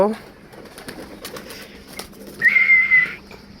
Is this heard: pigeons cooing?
yes